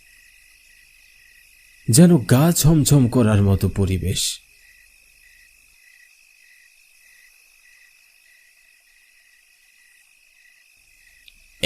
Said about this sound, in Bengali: কালো অন্ধকারের মাঝে শুধু ঝিঝি পোকার ডাক কানে ভেসে আসছে।